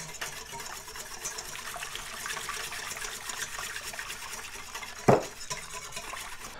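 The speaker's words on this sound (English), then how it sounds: "I'm going to be stirring it really vigorously and pouring in just a little bit of alcohol at a time" Lichen extract is stirred vigorously as alcohol is poured in a little at a time, giving a faint continuous liquid swirl with one sharp clink of the vessel near the end.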